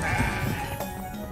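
Goats bleat in the video game CrossCode: a brief, close, wavering bleat or two that fades over a little more than a second, with no talk.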